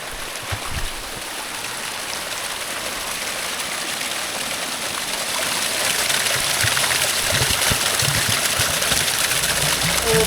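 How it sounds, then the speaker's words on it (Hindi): Small mountain waterfalls and a stream on the route to Gangotri rush and splash continuously, close and fairly loud, the flow growing louder in the second half. "यहाँ पे छोटे छोटे वाटरफॉल्स पे आ रहे हैं, तो यहाँ से पानी भर लेते हैं।"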